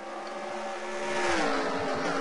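NASCAR Sprint Cup race cars racing at Richmond during the 2015 Toyota Owners 400, a steady engine roar that swells as cars pass.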